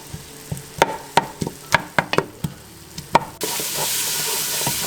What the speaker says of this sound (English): So we're gonna saute this until it gets nice and golden brown or softened.